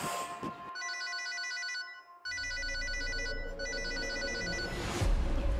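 A telephone rings with an incoming call, two bursts of electronic trilling bell tones separated by a short pause, clear and close with a low rumble entering behind the second ring.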